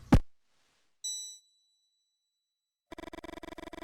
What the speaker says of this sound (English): Suddenly, the bell rings.